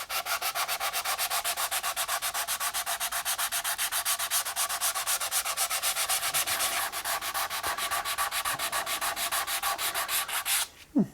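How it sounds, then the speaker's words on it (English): Sandpaper is rubbed by hand with light pressure across filler on a guitar body, giving a steady, rhythmic scratching of quick back-and-forth strokes, close and alone, stopping near the end. "So with just a light pressure, start sanding back the filler."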